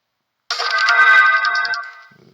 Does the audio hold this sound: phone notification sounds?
yes